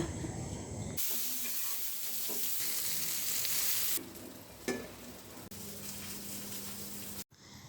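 Eggplant pieces sizzle and fry steadily in a hot pan, a loud continuous crackling hiss that drops slightly partway through with a few stirring clicks, no voices.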